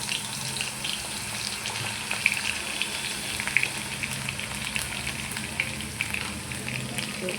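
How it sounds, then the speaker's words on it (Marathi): Crushed garlic sizzling in hot oil in a heated kadhai, a steady close crackle and hiss with small pops throughout, no voices. "तेलामध्ये लसूण टाकते."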